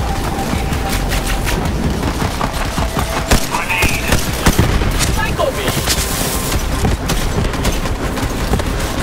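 Dense, continuous gunfire and booming grenade blasts from the PC shooter Borderlands 3 fill the whole stretch at close range, with a voice briefly shouting over the din.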